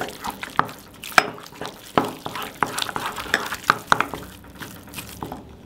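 Batter being stirred in a bowl after eggs are added one at a time, for crispy-skinned burger buns: soft, irregular wet clicks and scraping taps, close and moderately loud, with no talking.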